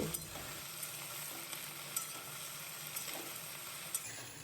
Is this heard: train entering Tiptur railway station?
no